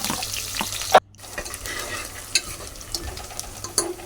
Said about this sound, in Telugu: పచ్చిమిర్చి ఇంకా ఆనియన్స్ అయితే వేసుకోవాలి వేసుకొని ఒక రౌండ్ మంచిగా అయితే మిక్స్ చేసుకోవాలి